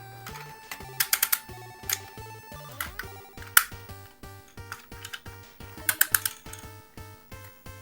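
Plastic parts of an original Mighty Morphin Power Rangers Megazord toy are folded down, producing sharp clicks and snaps in quick clusters over soft, steady background music.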